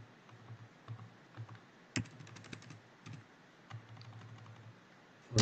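Computer keyboard typing: irregular close clicks and key taps in short bursts, a quick flurry around the middle, with a low background hum and no speech.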